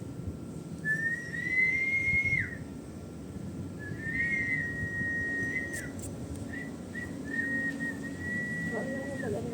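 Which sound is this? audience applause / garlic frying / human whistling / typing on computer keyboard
human whistling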